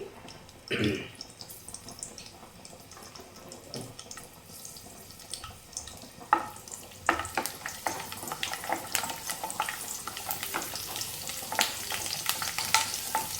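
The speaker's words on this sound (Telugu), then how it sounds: "ఫస్ట్ అయితే వెల్లుల్లిపాయలే వేగనిద్దామండి, అవి బాగా వేగాలి" Crushed garlic frying in oil for Andhra dal, starting with a few clatters, then building into a busy, crackling sizzle with stirring noises, close by and without speech.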